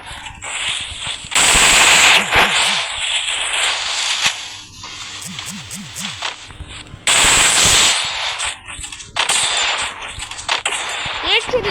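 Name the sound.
gunfire in a video game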